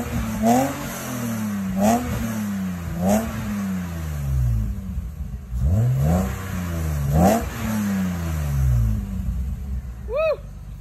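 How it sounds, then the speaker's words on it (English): A BMW E36 M3 with its S52 inline-six engine rapidly blipped and revved, around five sharp rising-and-falling bursts in a loose rhythm, heard close up with people talking and cheering around it. "my first time ever hearing this thing actually rev. Like, it makes some cool S52 noises"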